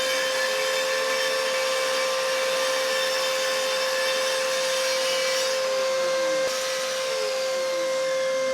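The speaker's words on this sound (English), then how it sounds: "The full length parts just needed a little bit trimmed off to fit the space, so I cut them down with my new track saw." A new track saw cuts through MDF boards, giving a steady, close, high-pitched motor whine with a constant droning tone that holds for several seconds.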